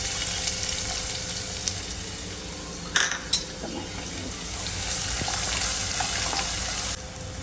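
Asafoetida, garlic and onions hit hot oil already holding mustard and cumin seeds, giving a steady, close sizzle. A couple of sharp utensil clinks against the pan cut through the frying.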